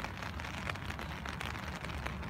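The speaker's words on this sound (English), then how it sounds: "It's raining here on beautiful Lake Parsippany, New Jersey." Rain falling on Lake Parsippany, New Jersey: a steady, soft, even hiss of drops on the water, continuous and fairly faint, with no talking.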